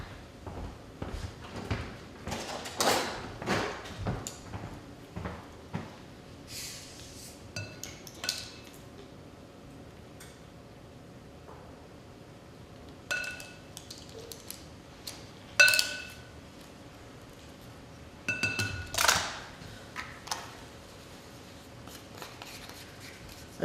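Two cups of flour with garlic salt and sugar are whisked in a bowl, close-up scraping and rattling in several quick bursts separated by short quiet pauses.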